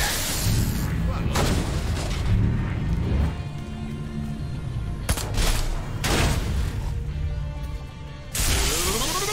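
Heavy gunfire and explosive booms in the Destroy All Humans! 2 video game, loud bursts of rapid shooting in waves with short pauses, under an excited voice.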